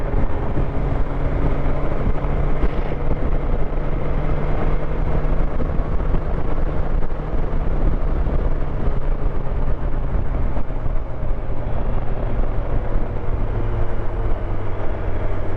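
A BMW S1000XR touring motorcycle riding along, its engine a steady loud drone with a sustained low hum and wind rush, no audible speech over it.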